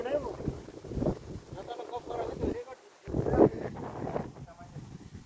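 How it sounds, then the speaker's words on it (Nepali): Strong wind gusting across the open Malika hilltop, a steady blustery roar buffeting the microphone with a short lull midway, while a person speaks over it throughout. "यहाँ चाहिँ एकदम हावा चलिरहेको छ।"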